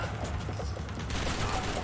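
Revolver gunfire in the Max Payne 3 video game, dense overlapping shots and rattling bursts throughout a short, busy stretch of combat noise.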